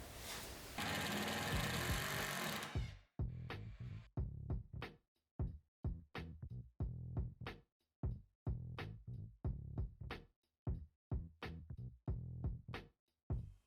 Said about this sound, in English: I want to screw the top cabinets to the wall studs